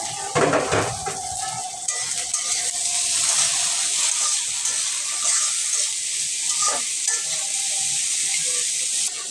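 Minced garlic and dried fish frying in oil in a pan, a loud steady sizzle throughout with a few stirring clinks and scrapes near the start and middle.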